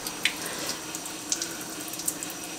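Water running from a tap, tinted orange, in a steady close hiss with a few faint drips, no talking.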